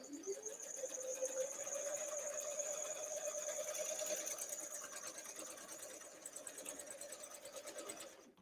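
A sewing machine stitches a row of shirring with elastic thread, a close, fast, whirring motor hum with a high buzzing tone that runs steadily, then slows and stutters toward the end.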